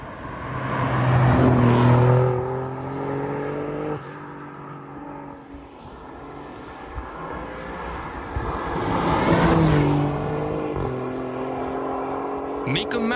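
An Alfa Romeo Giulia Quadrifoglio engine accelerates hard, its pitch climbing steeply then dropping sharply at two ZF gearbox shifts, loud and close.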